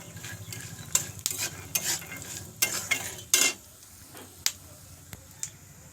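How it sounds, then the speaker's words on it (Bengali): Potatoes fry in a pan on a rainy day, clicking, scraping stirs and crackling bursts of sizzle running over a soft, steady fry, close by. "আর এই যে আলু ভাজবো"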